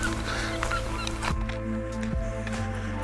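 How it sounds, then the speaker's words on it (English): Loud honking gull calls sound repeatedly over a steady background hum, several harsh squawks overlapping at close range. "I can hear those gulls squawking in the background there."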